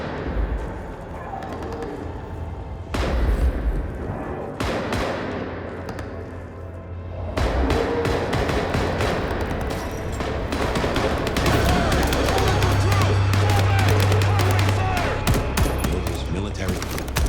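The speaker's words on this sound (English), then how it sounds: "Gunfire." Rapid bursts of gunfire crackle over a dense, noisy soundscape in the game Vampire: The Masquerade – Bloodlines 2, with heavier volleys in the second half and a voice occasionally breaking through.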